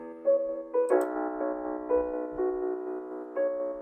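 Piano notes from the Euphonic piano library, played in the upper register as a melody layer for a dark trap beat; several sustained chords struck in sequence, clear and alone with no talk.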